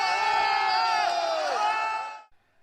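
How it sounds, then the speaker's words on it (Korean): A crowd of people cheers and shouts loudly around an overturned police patrol car during a street clash in Henan, China, a dense continuous roar that cuts off sharply. "환호성이 터져나옵니다."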